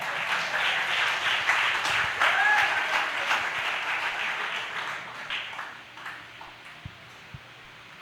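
Steady applause from a church congregation during a preaching service fills the space, sustained clapping that gradually thins and fades toward the end.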